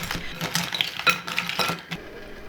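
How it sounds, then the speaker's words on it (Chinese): Crab pieces tossed with starch in a bowl, producing a run of soft, close clinks and scraping stirs at an irregular rhythm, fairly quiet with no talking. "加一些淀粉，尽量让每块螃蟹都均匀地裹上淀粉"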